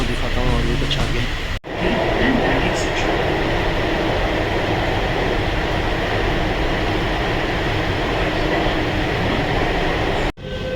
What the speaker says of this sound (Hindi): और आप देख सकते हैं ये गई मेट्रो